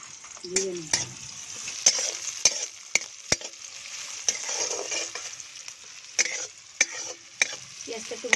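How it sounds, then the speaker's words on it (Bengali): Onion sizzles and fries in hot oil in a kadai with garlic and ginger for a ghugni dish, a steady crackling sizzle broken by sharp stirring knocks and scrapes, close and fairly loud with no talk. "পেঁয়াজটা একটু ভাজা ভাজা হবে"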